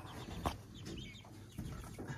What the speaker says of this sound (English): I put that chickens in there